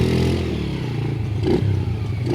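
A small Edge 90cc ATV engine runs steadily nearby with a buzzy, rough drone, its pitch rising slightly around the middle, alone with no voices.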